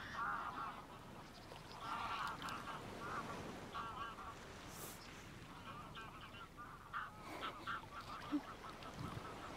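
Snow goose honks, played as a theatre sound effect, come as faint, repeated nasal calls over a dim, hissy background, with a few scattered bursts spread across the stretch.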